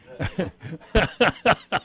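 A burst of short, repeated coughs, about seven quick hacks in under two seconds, close and fairly loud.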